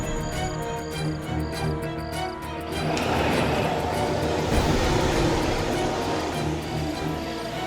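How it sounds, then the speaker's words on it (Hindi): A heavy bus engine rumble grows louder and fuller partway through as the bus approaches, a broad roaring noise close by. "ये तो बस की आवाज है"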